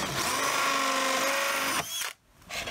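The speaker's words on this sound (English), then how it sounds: "This is tricky to drill." A power drill cuts a notch into the edge of a plastic 5-gallon bucket, giving a loud, continuous high-pitched whir for nearly two seconds before it stops abruptly with a brief rattle.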